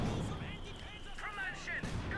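Mortar fire from Company of Heroes 2, a British mortar emplacement and a German mortar position trading shells: dull booms and crashes in a continuous battle din, with voices underneath.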